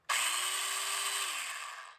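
A Festool DF 500 Domino joiner motor spins up with a sharp start, holds a steady high whine for over a second, then winds down quickly after being switched off, loud and close with no talking.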